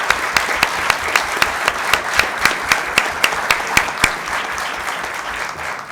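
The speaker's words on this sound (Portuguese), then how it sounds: "a quem peço uma salva de palmas," An audience at a municipal swearing-in ceremony in Azambuja applauds the newly elected president of the town council, a steady wash of clapping with a strong regular rhythmic beat running throughout, fading slightly at the end.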